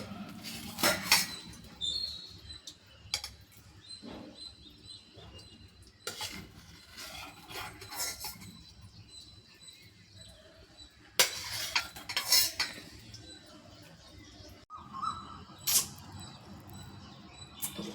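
A metal spoon clinks and scrapes inside a cup while scooping soaked chia seeds, with repeated light taps and rubbing scrapes in irregular bursts, close and fairly quiet, with no talking.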